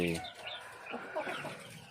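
Fighting-cock breed chickens in a coop on a farm in the morning cluck softly and intermittently, faint and fairly distant, with short calls scattered over a quiet background.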